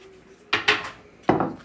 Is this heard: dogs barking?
no